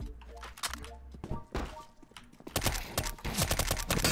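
Gunshots in a first-person shooter video game crack out in scattered, irregular bursts, growing busier and denser over the last couple of seconds with other game sounds mixed in.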